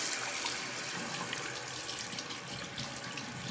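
Tap water runs steadily into a sink while soap is rinsed off, a close, continuous hissing splash with no talk.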